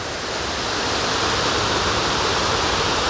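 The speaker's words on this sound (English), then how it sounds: "that's a lot of water coming down here" Heavy water overflowing down the spillway of the last dam in the Elan Valley system during full overspill, a loud continuous roaring rush that swells slightly and stays steady.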